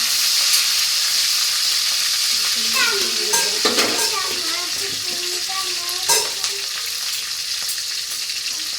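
Whole cumin, bay leaf and green chillies fry in hot oil with a constant sizzle, broken by scraping and clinking as a spoon stirs them in the pan.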